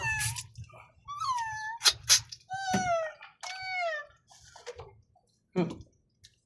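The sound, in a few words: cat meowing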